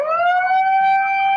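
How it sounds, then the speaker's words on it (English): A single siren wail rises quickly and then holds a steady, loud, clear tone, heard alone with no talking. "Then, 3 minutes later, the siren."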